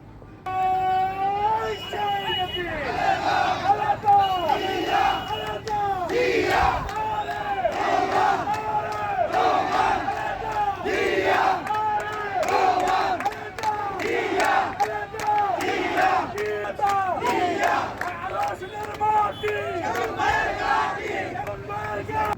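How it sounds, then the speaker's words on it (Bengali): A large crowd at a political rally chants slogans in a steady, rhythmic call, loud and continuous throughout, with a reporter speaking over it. "স্লোগানে স্লোগানে একটি একটি উৎসব মুখর হয়ে উঠেছে সমাবেশ প্রান্তর"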